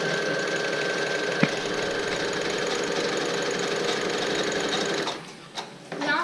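A sewing machine double stitching a seatbelt strap for a guitar strap: a fast, steady mechanical chatter, close and continuous for about five seconds, then stopping and starting briefly.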